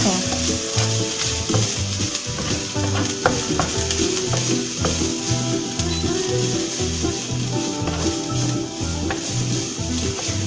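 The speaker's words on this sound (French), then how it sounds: "Donc on va revenir à l'oignon et l'échalote." Onion and shallot sauté in a pan for lasagne bolognese, a constant loud sizzle broken by rhythmic scraping strokes of a wooden spoon, close and steady with no voices.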